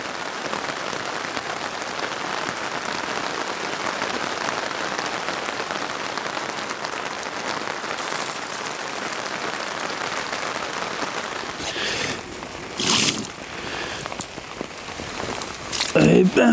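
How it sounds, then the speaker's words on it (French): Heavy rain pours steadily onto a lake during a rainy fishing session, a dense continuous hiss close by, with brief louder bursts of patter and rustling near the end. "Eh ben, on se retrouve sous la flotte."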